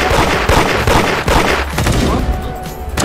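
Loud, dense bursts of gunfire in the Roblox game Da Hood, rapid overlapping shots and sprays filling the whole stretch, with game ambience and a brief tone near the end.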